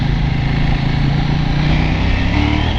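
A KTM 790 Duke parallel-twin motorcycle engine, about 105 horsepower, runs loud and close with a steady throbbing drone, and the pitch barely shifts, so it sounds more like a held rev than a sharp climb.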